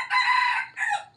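A rooster crows once, loud and close, a single drawn-out cock-a-doodle-doo with a shorter falling note at the end, heard alone.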